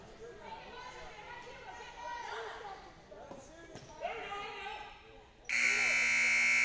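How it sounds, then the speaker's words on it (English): A loud, sustained buzzer sounds at the end of the third quarter of a high school basketball game between Bible Baptist Patriots and SR Panthers, blaring steadily over a dying gym crowd murmur and squeaking shoes. "And the buzzer will sound."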